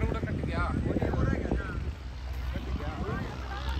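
A John Deere 5210 tractor's engine roars loud and close at a tractor pulling contest in Jhajjar. The heavy, rumbling drone runs throughout beneath excited shouted commentary in Hindi.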